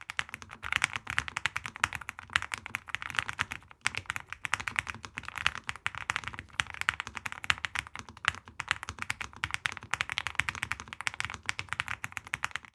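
Fast, continuous clicky typing on a mechanical keyboard, dense keystrokes rattling close up with a brief pause partway through.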